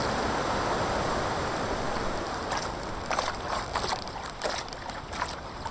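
A foiling Jx50 race boat tacking in the sailing video game HydroFoil Generation: a constant loud rush of water and wind, with faint splashy ticks and knocks as the boat turns, and no voices.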